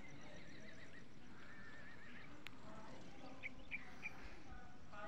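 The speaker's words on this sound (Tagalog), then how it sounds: "Ito yung mga kabayo guys, oh. Kita mong kabayo." Horses on a communal ranch in Bukidnon give a few faint, distant whinnies over a constant outdoor wash of wind and ambient noise, with birds chirping nearby.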